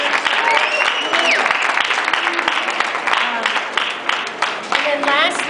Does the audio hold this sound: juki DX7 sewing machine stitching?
no